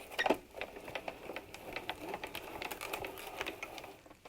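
Sizzix Big Shot Plus die-cutting machine rolling a felt sandwich through by hand, a quiet irregular ratcheting clicking and creaking of the crank and rollers, close and fairly faint, no talk.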